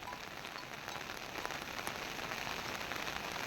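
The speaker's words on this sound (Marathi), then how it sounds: "ह्या बघा पाऊस जबरदस्त पडता" Torrential rain falls steadily across a village landscape by a swollen river, a continuous broadband patter of drops on surfaces with a few slightly louder individual splashes, unbroken by any talk.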